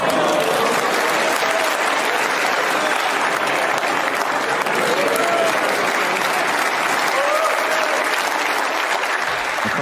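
Sustained loud applause from a crowd at a snooker match between Ronnie O'Sullivan and Si Jiahui at the 2023 English Open, a dense even clatter of clapping lasting throughout.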